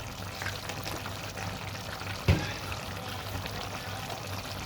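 Fish sauce (patis) pours into food cooking in a pan, a soft liquid trickle over a steady low sizzle, with one brief thump partway through.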